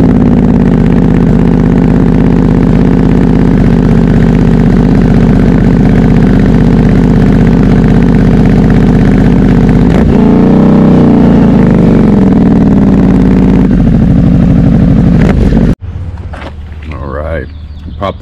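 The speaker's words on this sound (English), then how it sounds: "how does the Toce performance exhaust sound with the DB killer?" A Harley-Davidson Pan America motorcycle with a Toce performance exhaust and dB killer idles loudly with a deep, steady exhaust rumble, briefly revs midway, then cuts off abruptly near the end.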